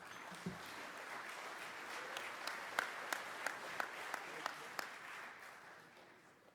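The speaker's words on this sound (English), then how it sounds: "let's give a round of applause to past Department Commander Catherine A. Baran, DAV, Department of Nevada." Audience applause at a Disabled American Veterans business session, steady clapping from a crowd with a few sharp, close claps standing out, fading toward the end.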